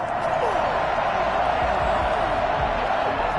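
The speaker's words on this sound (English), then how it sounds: "Well, the crowd doesn't like that." In a football video game between the Patriots and Seahawks, a stadium crowd roars in a dense, continuous wash of disapproving noise after a penalty flag, holding a steady, even loudness throughout.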